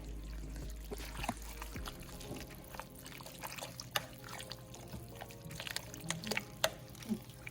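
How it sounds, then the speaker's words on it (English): Undrained canned green chilies are dumped into a crock pot, giving a soft, wet pouring and trickling of liquid with scattered small drips and plops. The sound stays fairly quiet and close. "I don't drain these ones, I just dump them in there."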